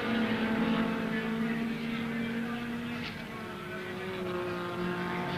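Improved production touring cars racing at Warwick Farm circuit in 1971, engines droning with a sustained tonal whine that shifts in pitch as the cars pass, loudness dipping slightly mid-way then rising again.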